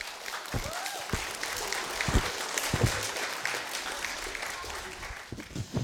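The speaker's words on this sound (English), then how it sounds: "give them a round of applause for all of their hard work" Audience applause, a steady wash of clapping from many hands, fairly close, with a few sharper individual claps standing out.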